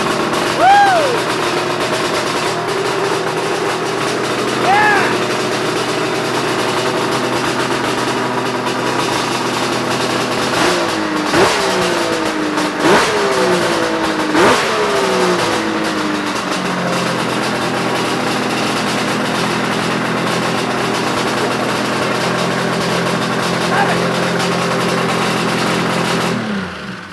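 A snowmobile engine with a tuned carburetor idles loudly and steadily, rising in several sharp revs in quick succession around the middle before settling back to a rough, even idle.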